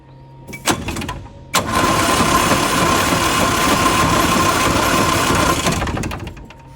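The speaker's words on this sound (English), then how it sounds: "I'm going to turn the ignition on and then hit the starter" Big Healey engine cranking on the starter with the ignition on, a loud steady whirring churn lasting about four seconds after a couple of sharp clicks, then cutting off without catching.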